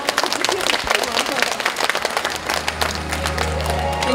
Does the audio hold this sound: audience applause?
yes